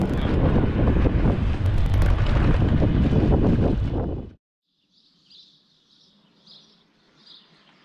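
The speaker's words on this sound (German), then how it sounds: "bis jetzt ist es sehr, sehr geil, diese kühle Windzug, Wahnsinn" Strong wind roars loudly across the microphone for about four seconds while cycling outdoors in warm sun, then cuts off abruptly, leaving faint background sounds and soft distant chirps.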